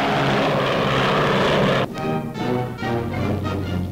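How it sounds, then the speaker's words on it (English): A WWII de Havilland Mosquito twin-engine bomber drones loudly in flight, then the steady engine roar changes to a throbbing, pulsing propeller hum that continues to the end. "Even when flying on only one of its powerful twin motors, Canada's Mosquito bomber carries a deadly sting."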